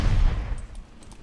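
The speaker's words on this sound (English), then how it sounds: "Gunfire from the other side." Naval gunfire in the warship battle game Ultimate Admiral Dreadnoughts: a heavy, booming salvo at the start that decays into a rumbling tail, followed by faint distant crackles.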